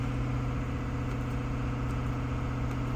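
A Ford 6.7 diesel engine idles steadily during diagnostics of a knocking fault, a loud, constant low rumble with strong humming tones and no change in pace.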